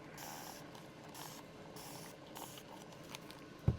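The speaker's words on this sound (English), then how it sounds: "let me get some alcohol sprayed in here" Alcohol hisses from a spray bottle onto epoxy resin for boho coasters in several short, soft bursts at an even rhythm, close and quiet, ending with a small knock.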